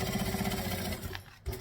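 A sewing machine stitching vinyl, a close, steady mechanical whir with a fast repetitive needle rhythm that slows and stops near the end, followed by a small clunk.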